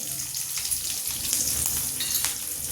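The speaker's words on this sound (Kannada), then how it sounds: "ಚಟಪಟನ ಸ್ವಲ್ಪ ಕೇಳ್ತಾ ಇರ್ಬೋದು. ಸ್ವಲ್ಪ ಕರಿಬೇವು, ಹಾಗೆ ಈರುಳ್ಳಿ ಹಾಕ್ತಾಯಿದ್ದೀನಿ." Curry leaves and onion crackle in hot oil, a dense, steady close-up sizzle with small pops throughout and no talking.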